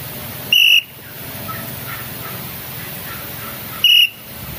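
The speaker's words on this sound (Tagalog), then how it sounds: "Ayan po ang ginagamit ko ng pito para dun sa sa-traffic" A traffic enforcer blows a whistle at a busy traffic spot: two short, piercing blasts a few seconds apart, loud and close over steady street noise.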